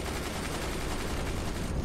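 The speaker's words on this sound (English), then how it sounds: "Gunners, keep firing!" Battle cannons fire in the strategy game Forts, a dense, fairly faint stream of rapid overlapping blasts and rumbling.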